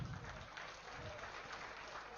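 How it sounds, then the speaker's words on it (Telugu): An audience at a Sankranti and Bhogi celebration claps together in a steady, dense burst of applause that holds throughout and sounds moderately close. "చప్పట్లతో చెప్పాలి."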